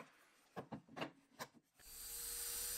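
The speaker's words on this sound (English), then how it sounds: "I just slide the domino jointer into place." A domino jointer set to its widest setting with an 8mm bit cuts a mortise in a wooden leg: a few short rubbing, rasping bursts, then a sustained high motor whir as the cutter runs, heard alone and fairly quiet.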